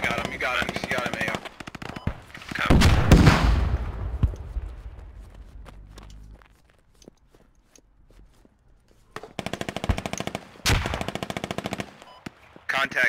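Machine gun fire in the video game Squad on the Al Basrah map, heavy rapid bursts that are loud and close, followed by a quieter lull and then further long sustained bursts.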